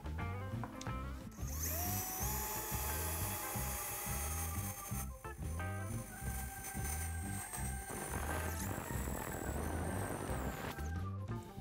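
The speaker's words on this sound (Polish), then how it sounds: "wiercenie raczej nie stanowi problemu, jeżeli chodzi o ceramikę" Drill bit boring holes into ceramic tile, a loud power drill whining in repeated bursts with brief pauses, its pitch shifting as the bit bites, close up and without talk.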